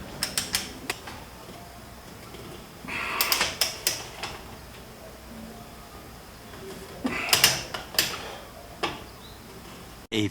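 Clusters of sharp ratcheting clicks from a torque wrench tightening the mounting bolts of a 12V synthetic-rope electric winch, in short bursts separated by pauses, close up in a quiet space.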